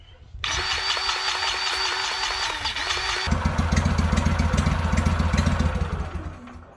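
A Gator-Tail GTR 37 XD boat motor starts up and settles into a loud, steady idle while warming up, its throbbing pulse deepening partway through, with no talking.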